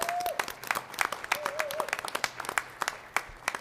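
An audience claps at a school board meeting honoring district leaders and designated teachers, irregular scattered claps at moderate distance, with a brief whistle-like tone and faint voices mixed in.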